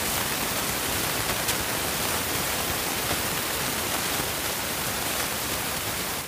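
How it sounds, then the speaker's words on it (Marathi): Heavy rain pours outside a temple, a dense, steady hiss that stays loud and even throughout, with no voices over it. "बाहेर पाऊस एवढा जोरात चालू आहे"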